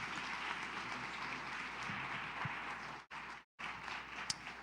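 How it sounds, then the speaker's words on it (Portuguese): A church congregation applauds during a Sunday celebration service, a dense, steady clapping from many hands that cuts off abruptly twice before resuming. "Vamos aplaudir a Deus pela conquista."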